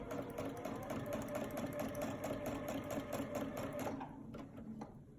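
Sewing machine running steadily through free motion quilting, a fast continuous mechanical whir with needle rhythm that slows and eases off near the end.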